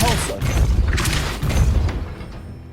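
A Depulso force spell from Hogwarts Legacy strikes with heavy, close thuds and booms in a few irregular bursts, plus scattered crashing debris and rumble throughout.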